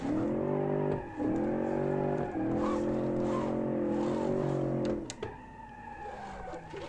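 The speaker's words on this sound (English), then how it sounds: "Like me applying the handbrake to initialize the slide." Car engine in BeamNG.drive driving a built 1980s car, loud and steady with revs dipping and rising during a handbrake slide, then a sudden drop near the end into softer engine and tire noise.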